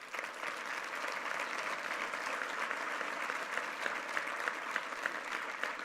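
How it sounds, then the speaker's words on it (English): Audience applause at a business seminar, steady crackling clapping from a large crowd sustained for several seconds at moderate level, with no talking over it. "Give her a round of applause."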